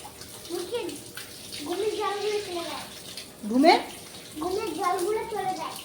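Tap water runs into a basin as a child washes their face, a continuous splashing flow beneath an adult and someone talking nearby.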